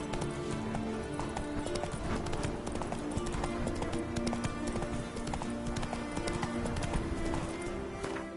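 Roach the horse galloping in a video game, rapid continuous hoofbeats pounding loudly throughout with background game music underneath.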